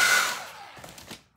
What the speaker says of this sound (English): I'm gonna shoot it with some hairdryer